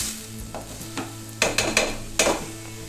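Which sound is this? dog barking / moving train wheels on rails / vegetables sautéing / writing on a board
vegetables sautéing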